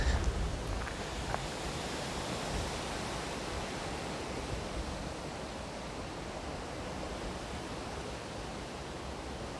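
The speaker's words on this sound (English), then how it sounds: "We're at the River Tweed." Water of the River Tweed in the Scottish Borders near Dryburgh Abbey flowing steadily, a broad, even rushing wash that holds constant throughout with no talking.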